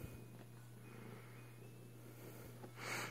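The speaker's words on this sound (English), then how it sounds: "Oh, and you're purring too." A small gray cat purrs in a quiet indoor room at night, a faint steady low rumble with soft breaths, ending in a brief louder rustle.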